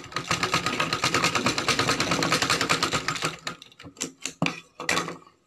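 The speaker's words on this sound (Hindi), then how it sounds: "इस तरीके से एक लंबी सिलाई लगा लीजिए।" A sewing machine runs a long continuous seam on a blouse, a steady close rapid whir for about three seconds, then stopping and restarting in short bursts.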